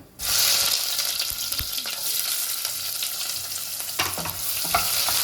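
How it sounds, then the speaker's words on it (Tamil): Onions frying with a bay leaf, marathi mokku and star anise for plain hotel-style salna start abruptly into a loud, continuous sizzle, with occasional stirring scrapes close by. "ஆனியன் கொஞ்சம் ப்ரௌனாக வர வரலாம் நல்லா ஃப்ரை பண்ணணும்."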